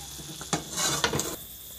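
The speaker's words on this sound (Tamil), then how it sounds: "இப்போ சர்க்கரை கரைஞ்சி நல்லா கொதி வருதுங்க" Sugar syrup for Mysore pak bubbles in a pan, brief close bursts of boiling and spluttering rising and falling over a couple of seconds.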